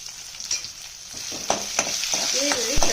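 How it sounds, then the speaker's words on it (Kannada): Onions sizzle in hot oil in a pan while cooking a brinjal and tomato gojju, a steady close fry with a few stirring scrapes and clinks over it. "ಇವಾಗ ಈರುಳ್ಳಿ ಹಾಕ್ತೀನಿ."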